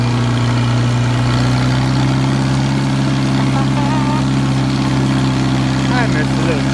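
An International 184 tractor engine idles steadily and loudly with a constant low rumble, with no breaks or changes in pace.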